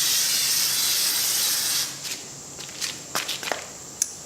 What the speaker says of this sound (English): this time I was careful not to spray way too much